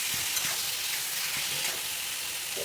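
Pointed gourd and potato sauté with spices in a pan, giving a steady, dense sizzle that fills the whole stretch at an even level, close and continuous with no voices.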